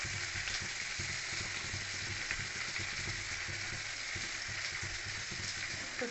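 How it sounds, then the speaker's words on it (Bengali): Soybean chunks and potato pieces fry in oil in a pan for a mustard soybean curry, giving a steady, dense sizzle that runs unbroken and close throughout with no talking. "সয়াবিন আলুটাকে আমি ভালো ভালো করে ভাজে নিতে হবে"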